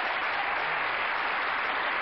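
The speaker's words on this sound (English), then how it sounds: "Give her a nice round of applause." A television game show studio audience applauds, a steady, dense wash of clapping that stays level and continuous from start to finish with no voices on top.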